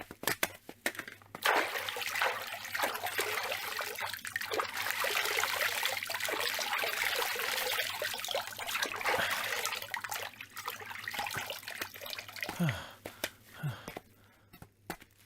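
Water trickling and splashing in a steady broadband stream, close and continuous, with a few brief voices near the end.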